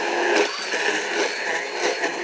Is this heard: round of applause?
no